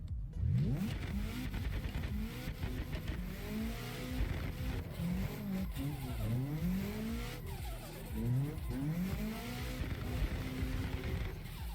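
Car drifting in the Assetto Corsa racing game, with the engine revving up and down continuously and rising tire squeals sweeping through repeated slides, loud and close, with no talk.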